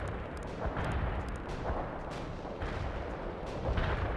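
Gunfire and artillery in the World in Conflict video game: a dense, continuous rumble of distant explosions and shots with repeated heavier booms, loud and steady throughout.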